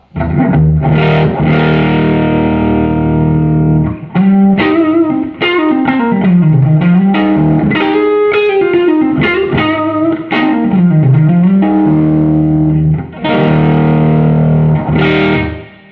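Loud, distorted electric guitar through a cranked Fender Hot Rod DeVille tube amp, sustained chords and bending riffs with gritty breakup and heavy low end, playing continuously with brief pauses.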